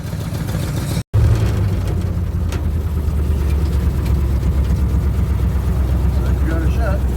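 A 1930 Ford flathead engine idles with a low, steady rumble after a brief cutout, with voices heard faintly at times.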